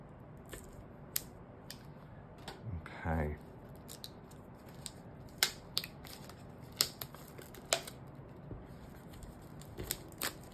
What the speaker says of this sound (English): Let's get some scissors and go in.